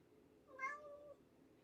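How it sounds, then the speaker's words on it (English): A small cat in a Star Wars Jedi Survivor scene lets out a single short, faint meow, rising and falling in pitch over quiet background ambience. "Meow, says Pippi."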